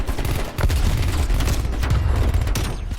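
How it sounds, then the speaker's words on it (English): Continuous heavy gunfire from the video game Black Ops Cold War, including akimbo Diamatti burst pistols, heard as a loud, dense fusillade of rapid shots with booming low end and no talk. "That last burst shot right there"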